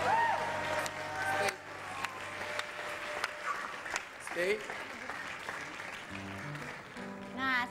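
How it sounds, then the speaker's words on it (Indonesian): Applause breaks out at a home gathering for a golden retriever that has performed a trick. Several short bursts of clapping mix with lively chatter, while people talk over and between them. "Oh tepuk tangan buat anjing golden yang sekali lagi."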